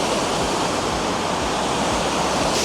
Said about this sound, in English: I kind of want to check out the waterfall. Long Creek Falls.